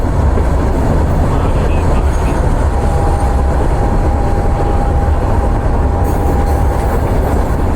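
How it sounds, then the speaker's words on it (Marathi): A freight train rolls past a railway level crossing, a loud, continuous rumbling roar with wheel clatter that fills the whole clip, close by and steady, with a faint high squeal partway through. "हाँ तर फायनली ट्रेन आलेली आहे."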